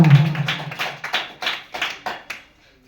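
Congregation clapping in a church service: a run of about seven separate, fairly loud claps or claps in unison, evenly spaced, stopping after roughly two seconds, with no talk over them.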